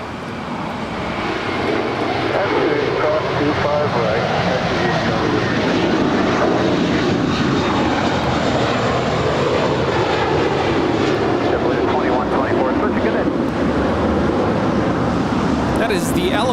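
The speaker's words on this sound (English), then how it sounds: "That is the element of surprise departing to JFK with JetBlue. It's flight 2124, and that's an A321." JetBlue Airbus A321 jet departing Los Angeles International Airport for JFK, a broad sustained engine roar that swells in and holds steady as the aircraft climbs out, loud and continuous.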